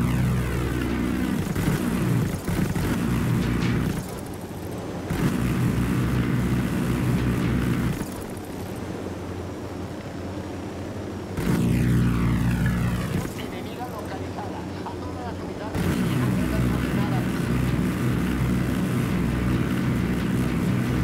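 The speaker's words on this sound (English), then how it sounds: "Attack helicopter, inbound on your position." A heavy engine drone switches on and off in long stretches, alternating with deep rumbling and sweeping whooshes that come and go.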